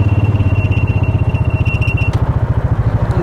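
Massimo Buck 450X gas UTV golf cart with EFI running while driving, a loud close engine with a steady fast pulsing throb and a faint high whine, no talking.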